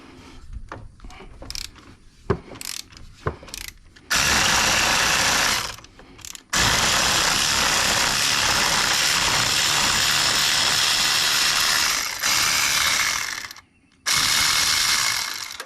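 A ratchet on a string of extensions turns the 18mm top transaxle mount bolt of a 2005 Buick Park Avenue, with a few quick clicks, then long loud grinding, whirring runs broken by short pauses.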